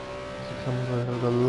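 A Ginetta GT4 race car in Project Cars 2 on a lap at Snetterton drones steadily, its engine pitch dropping and then climbing again as it shifts and accelerates, with someone speaking over it.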